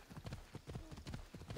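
Horse hooves clip-clop steadily in Assassin's Creed Odyssey, a quick repeating gallop rhythm at close range and moderate loudness, with faint speech in the background.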